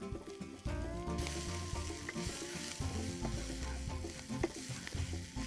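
Red chili powder, turmeric and chopped ginger frying in a pan for tuna curry, with a loud, continuous sizzle and repeated stirring knocks. A steady hum runs underneath throughout.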